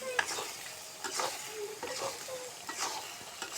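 Fish curry with taro, pointed gourd and potato stirred and fried in a pan: repeated scraping spatula strokes over a steady sizzle, close up, with no talk.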